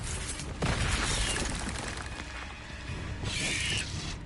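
A Confringo blasting spell explodes in Hogwarts Legacy, a dense crackling burst of sound with a sharp onset, then a second bright blast near the end over steady game noise.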